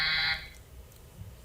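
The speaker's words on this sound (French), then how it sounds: "On appuie sur le buzzer." A game show buzzer on a French quiz programme sounds once, a short bright electronic tone that cuts off quickly, followed by faint room noise.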